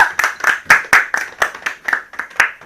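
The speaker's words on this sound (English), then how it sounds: "Give them a round of applause." A small group at a quiz night gives a short round of applause, heard as a handful of distinct, uneven claps in quick succession, close and fairly loud, with no talk.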